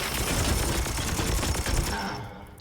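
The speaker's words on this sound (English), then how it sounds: "let's just gun him down with some shots" Rapid, dense bursts of gunfire in Warhammer 40,000: Chaos Gate - Daemonhunters, aimed at a Chaos Dreadnought, loud and continuous before tapering off near the end.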